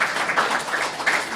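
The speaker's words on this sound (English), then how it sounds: "let's give a round of applause" Audience applause at a business conference for Liberia, a steady, fairly dense run of clapping from a seated crowd lasting just over a second, with no talk over it.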